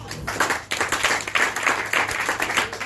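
A church congregation claps together in a steady, dense round of applause, close and fairly loud, filling the whole stretch with overlapping hand claps.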